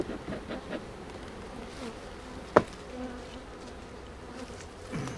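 Honeybees buzzing at an opened beehive during smoking, a steady diffuse hum with one sharp click partway through.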